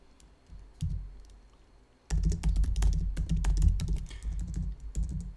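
Close computer keyboard typing in a game show setting: a few isolated key taps, a pause, then a fast run of clattering keystrokes with short breaks.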